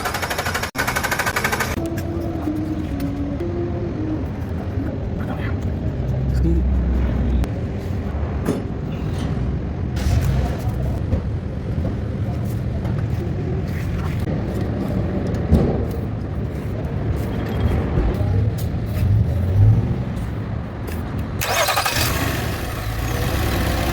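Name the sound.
Nissan Maxima engine cranking but not starting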